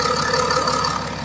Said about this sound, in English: the lovely sound, the straight 6 diesel